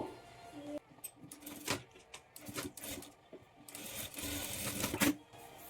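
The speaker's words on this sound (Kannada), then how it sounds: "ಈಗ ಬ್ಯಾಕ್ ಪಾರ್ಟಲ್ಲಿ ಡಾಟನ್ನು ಸ್ಟಿಚ್ ಮಾಡಿಕೊಳ್ಬೇಕು" A sewing machine stitches the dart on the back piece of a boat-neck blouse, its motor running in short bursts with brief pauses between, close and fairly quiet, with no talking.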